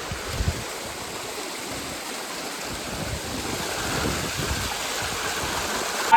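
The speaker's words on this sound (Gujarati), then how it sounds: "ફૂલ વરસાદ ગિરનાર ઉપર." Heavy rain and a waterfall on Girnar mountain make a steady, broad rushing wash of water with no voices, holding level and swelling slightly near the end.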